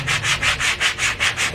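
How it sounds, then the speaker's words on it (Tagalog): Sandpaper rubbed by hand along the edges of wooden floating shelves: close, steady back-and-forth strokes in an even rhythm, about eight passes, with no talking. "Oh, ito liha. Lilihain natin siya."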